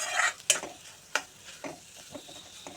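Egg and vegetables frying for fried rice, with a soft sizzle behind a handful of distinct scraping strokes as a spatula stirs the pan, quiet and close.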